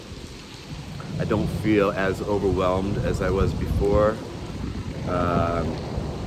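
Steady rain falling outdoors, a broad hiss beneath a close voice talking throughout while walking in the rain.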